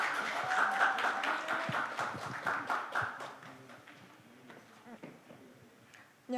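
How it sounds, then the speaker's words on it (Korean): A presentation-contest audience in a Korean hall breaks into clapping right after the presenter is called up, moderate and somewhat distant, fading out while a speaker's voice runs over the later part. "열렬한 환호 부탁드립니다."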